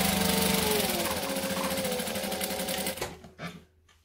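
A sewing machine stitching with light thread runs at a steady, close, even whir, then slows and stops near the end, leaving a few faint clicks and near silence.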